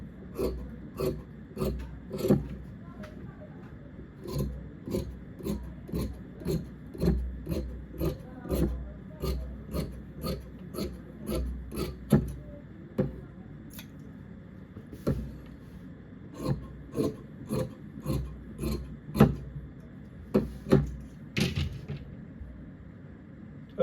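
Scissors cut through sport jacket fabric while trimming the front edge of a size 44/46 pattern: a steady, close run of crisp, rasping snips and slides repeating across the whole stretch, with faint background rustle.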